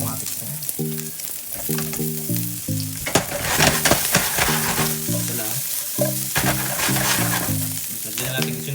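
Aromatics for a fish and coconut milk dish fry and crackle steadily in a pan, a bright sizzle with stirring noises, while music plays throughout.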